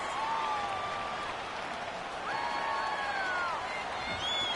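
A home stadium crowd at a football game keeps up a steady, loud roar, with sustained whistle-like tones rising and falling above the din and faint voices mixed in.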